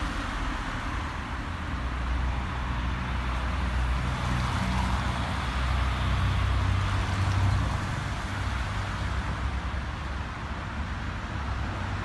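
Steady car traffic rumbles through a European city centre, a dense, continuous roadway wash with low engine drone that swells slightly midway, no distinct voices.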